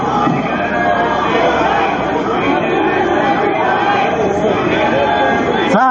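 A sizable crowd gathered outside a federal courthouse after an arrest produces a loud, dense wash of overlapping chatter and voices, steady and close throughout.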